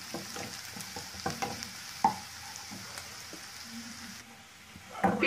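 Onions fry on a medium flame until lightly reddened, giving a soft, continuous sizzle with scattered stirring scrapes and taps nearby.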